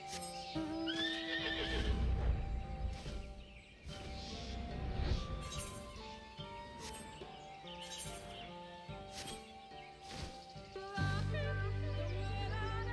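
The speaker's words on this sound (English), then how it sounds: "Let's take our 6-legged horsey." A six-legged horse mount in Final Fantasy XIV neighs and whinnies close by over galloping clip-clop hoofbeats and game music, followed by a sudden low rumble near the end.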